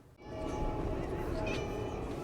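Cats meowing in a blood bank scene from the 2002 film Blade 2, several short mewing cries over a dense rumbling film soundtrack, mid-distance and moderately loud.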